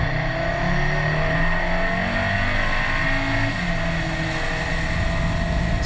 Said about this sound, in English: It's raw, it's fun, and the noise is so unique and special.